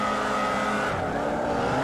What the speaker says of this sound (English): we get set to go racing as the revs start to build